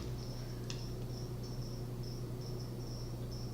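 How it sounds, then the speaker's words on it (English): A steady low hum of a clothes dryer running upstairs, with faint high chirping squeaks repeating irregularly, almost like crickets. "It's the dryer going upstairs in the head."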